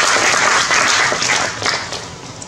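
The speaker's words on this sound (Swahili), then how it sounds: "Kwa hiyo makofi mengi sana kwa benki ya CRDB." Loud, sustained applause from a crowd at the launch event of a new CRDB bank service, steady dense clapping throughout with slight swells and no talk.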